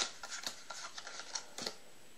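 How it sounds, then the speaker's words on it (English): Playing cards are dealt down one at a time and occasionally mixed by hand during a close-up card trick, giving a quick series of soft, crisp snaps and flicks, near and quiet, with no talk. "Just going to deal down cards, and every now and then I will mix them up just like that."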